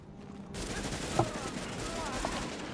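Gunfire bursts in the video game The Division's PvP mode, a dense rattle of shots running steadily throughout with a sharper crack near the middle, while a player talks over the action.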